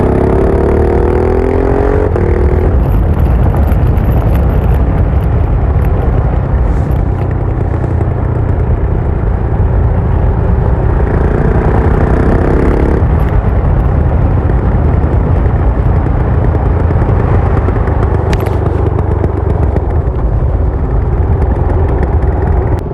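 A Husqvarna Vitpilen 701 motorcycle accelerates hard with a loud, steady engine roar and brief breaks from quickshifter throttle cuts, heard up close without talk.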